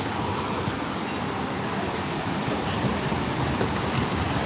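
Water pours steadily at Bigfoot Falls at Knott's, a continuous, even rush of falling water with no talk over it.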